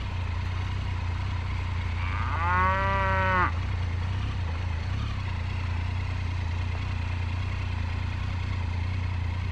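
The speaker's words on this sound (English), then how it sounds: "we did not expect a small group of cows blocking our way" Small group of cattle on a gravel backcountry road in Oregon, with one clear, drawn-out moo lasting about a second over a steady low engine rumble.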